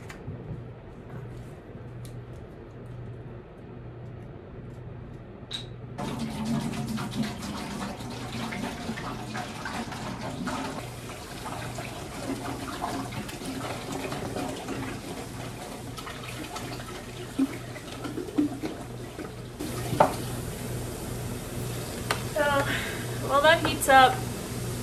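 Kitchen tap running to fill a pot for boiling on the stove, a steady broadband gush at moderate distance that builds partway through, with talking heard over the flow.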